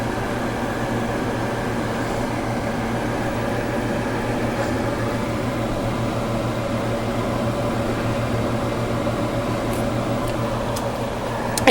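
A Nutribullet blender mixes green tea with honey, its motor holding a loud, steady whirring hum without a break from start to finish.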